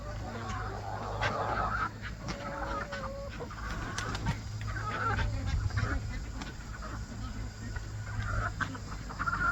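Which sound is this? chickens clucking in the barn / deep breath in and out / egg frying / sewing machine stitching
chickens clucking in the barn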